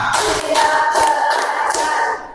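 Rhythmic bursts of hand clapping from a classroom group playing a counting clap game, several loud claps in sequence, close and fairly dense.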